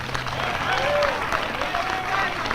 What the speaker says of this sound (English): deserves a round of applause, please